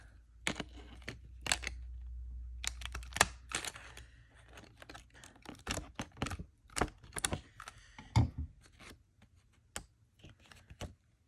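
A handheld corner chomper punch rounds the bottom corners of a Christmas card, sharp close clicks and snips spaced irregularly, with faint paper handling and a low rumble at the start.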